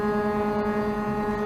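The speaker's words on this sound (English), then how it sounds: "Who has the fucking foghorn?" A deep, loud, foghorn-like vehicle horn holds one sustained steady blast in traffic on a drive from the Bronx to New Jersey.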